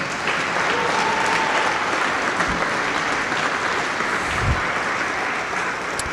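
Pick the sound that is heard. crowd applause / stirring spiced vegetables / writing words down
crowd applause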